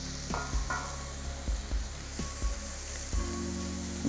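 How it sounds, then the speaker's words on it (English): An Irish Hereford Prime fillet steak has its edges seared in a hot pan: a steady sizzle broken by several soft knocks and scrapes as the meat is turned and pressed. "You want to cook the edges of your steak as well."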